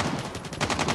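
Rapid gunfire from the COD Mobile shooter game, a dense burst of shots in steady succession running through the whole second, loud and close with no talk over it.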